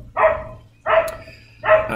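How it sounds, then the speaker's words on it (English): A dog barks three times at an even pace, each bark a loud, full woof close by, with short quiet gaps between them and no talking. "See, the dog has a strong opinion about this too."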